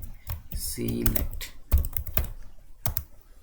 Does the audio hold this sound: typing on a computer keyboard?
yes